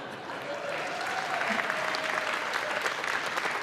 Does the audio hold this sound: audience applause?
yes